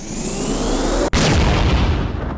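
Explosions in a video game roar as one continuous, loud, rumbling blast that cuts out abruptly for an instant partway through, then surges back at full strength and slowly fades.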